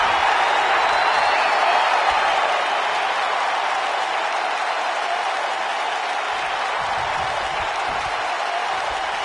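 A sold-out crowd cheers and applauds in a wrestling video game arena set in Philadelphia, producing a dense, steady roar of noise that holds loud throughout with no pause.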